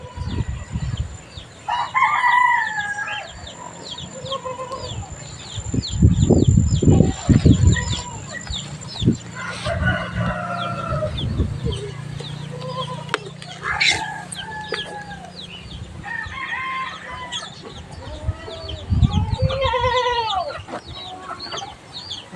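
Roosters crowing repeatedly and hens clucking on a small farm, with bleating from hungry pet goats among the calls, moderately near and overlapping, with scattered background noise.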